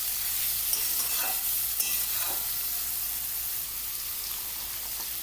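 Chopped carrots sizzle and fry in a hot pan while being stirred now and then for a vegetable Maggi noodle dish, a steady close crackle with a few scraping sweeps and no talk.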